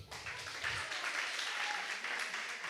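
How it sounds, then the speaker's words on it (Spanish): A church congregation at a worship service applauds, a short burst of dense clapping from a crowd, fairly distant and steady. "¡Aplauso!"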